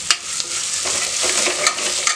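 Chopped onion with turmeric and salt frying in a pan for soya chunk biryani: a steady, close sizzle broken by a few sharp scrapes of stirring, with no talk.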